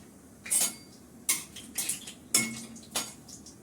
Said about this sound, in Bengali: এখন একটু গাজর কাটবো, চাউমিন করবো।